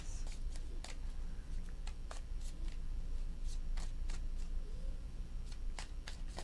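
Tarot cards are shuffled by hand in quick, crisp riffles and snaps, a rapid run of sharp flicks close to the microphone with no voices.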